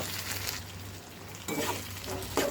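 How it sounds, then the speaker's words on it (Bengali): Beef sizzles in a hot pan as sauce is stirred in, giving a steady frying hiss broken by spoon scrapes and a few clinks against the pan, heard up close with no talking. "এবার মিক্স করে রাখা সেই সসের উপকরণটা দিয়ে দিব, দিয়ে ভালো করে নেড়ে নিব।"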